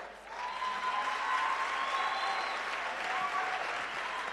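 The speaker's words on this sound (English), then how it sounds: "Yes, you may applaud." Steady audience applause at the University of Limpopo's 60th anniversary celebration fills the space, a dense wash of many hands clapping at once with faint tones drifting through, sustained throughout.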